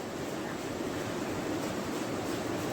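Steady, loud rush of flowing water from the Kohoin river near a waterfall in Sorsel, a dense broadband wash that holds constant throughout with no voices.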